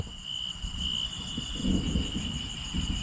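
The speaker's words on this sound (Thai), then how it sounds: "เสียงฝนนะพี่น้อง" Steady heavy rain at night at the edge of a reservoir hisses with a low rumble underneath, while high, even insect chirring carries through the background.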